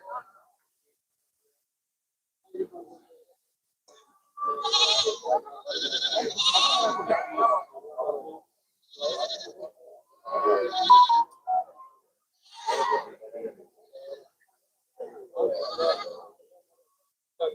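Barbari goats bleat repeatedly at a busy goat market in Punjab, loud close calls in bursts, with people talking in the background between and over them.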